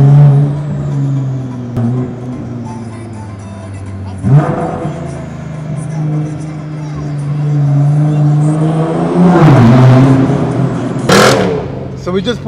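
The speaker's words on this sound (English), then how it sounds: "Too many cars revving up." Several cars at a night car meet on a city street rev their engines, a steady low rumble with sharper throttle blips around the middle and near the end, close and loud, with people talking over it.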